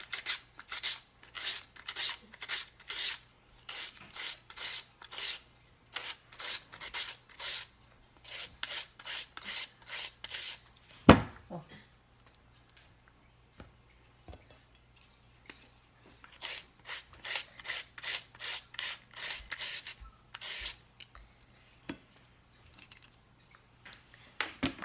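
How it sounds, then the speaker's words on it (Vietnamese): A carrot is shredded into long strips on a hand grater, giving a series of rapid, close rasping strokes in two bursts with a brief pause between, and no one speaks. "Rồi còn cái cà rốt thì mình sẽ bào sợi. Mình bào dài như thế này nè."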